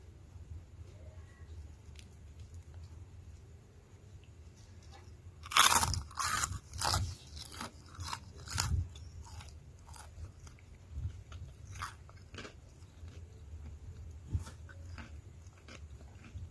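Crispy Indonesian vegetable fritters (bakwan) are bitten and chewed close up, giving a cluster of loud crunches midway and then scattered quieter crunchy chews, with no talking.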